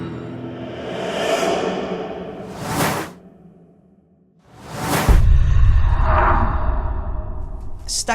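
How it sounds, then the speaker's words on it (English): Two quick, sharp whip whooshes sweep past as transition effects, set against a soft airy swell at the start and a deep rumbling drone that rises near the end. "So I would find a short whip sound and I would add this to this transition."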